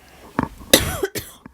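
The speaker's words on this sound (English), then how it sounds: "I've got a cough." Several sharp coughs come close together, each a short, harsh burst, with the last one slightly fainter and set off by brief pauses.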